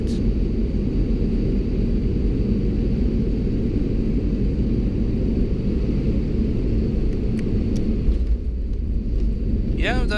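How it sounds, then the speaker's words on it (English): A Lufthansa airliner landing on runway 25 center at Frankfurt, heard from inside the cabin as a loud, continuous low roar and rumble of engines and wheels, easing slightly toward the end. "it was a very nice smooth landing"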